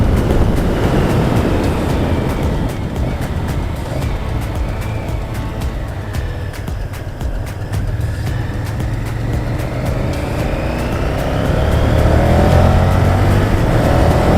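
A Honda VTR1000 Firestorm V-twin motorcycle engine pulls under way, a loud, close, continuous rumble with rising and falling pitch, wind rush over it, and a stronger surge of revs near the end.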